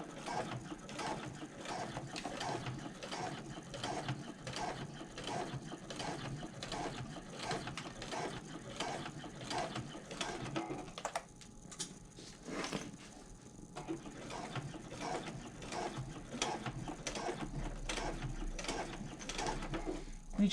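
Sewing machine topstitching the final seam of a handbag, a steady rapid mechanical clatter of needle and gears running almost continuously, with a brief slowdown partway through before resuming at full speed.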